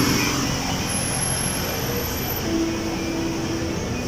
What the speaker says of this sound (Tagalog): Makikita niyo po, ayun po, ang aeroplano.